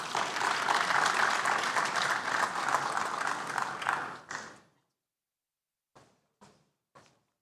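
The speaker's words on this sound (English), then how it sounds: "Another round of applause," A forum audience applauds in a dense, sustained wash of clapping that fades out after about four seconds, followed by silence and a few isolated knocks or taps.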